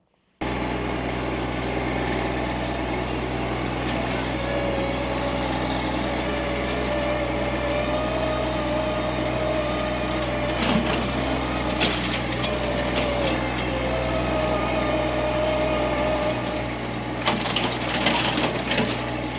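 Tractor engine droning steadily while driving down a mountain slope, a continuous low rumble with occasional clunks and rattles from the rough ride, close and fairly loud throughout.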